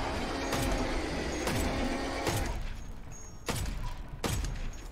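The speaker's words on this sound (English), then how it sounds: "he's letting me just shoot him" Sharp gunshots ring out in a survival video game as the player shoots an enemy, a handful of separate loud cracks spaced over a few seconds against a steady mechanical background rumble.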